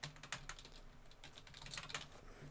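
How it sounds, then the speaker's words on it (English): Quick, light keystrokes on a computer keyboard while entering text in a design program, a fast irregular patter of soft clicks at low volume with no talking. "I'm going to type in kind regards"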